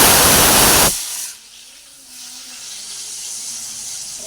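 Chopped onions hit hot oil in a home kitchen pan with a loud, broad burst of sizzling that drops within a second to a softer, steady frying hiss.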